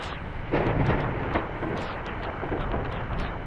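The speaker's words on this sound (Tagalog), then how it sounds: "lakas po ng kulog at kidlat" Thunder and lightning during a storm over a rural field, heard as a loud, deep rumbling roar that swells and rolls continuously with crackling bursts, amid steady rain-like noise.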